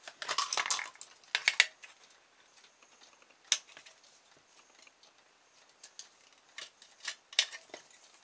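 Scissors snip the corners off a piece of aluminium can for a rubber band car: a burst of quick metallic cuts at the start, then scattered single snips and clicks, close but fairly quiet.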